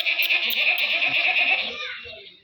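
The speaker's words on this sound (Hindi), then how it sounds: "ये घरोली बकरी है, घर वाले से लिए" A household goat on a goat farm gives one long, loud, wavering bleat close by that fades out at the end.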